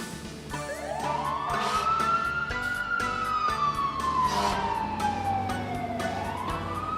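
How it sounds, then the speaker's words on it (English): Fire engine siren wailing in a long rising and falling sweep, loud and close, with a steady engine rumble and a few sharp clicks underneath. "Smallest. Fire engine."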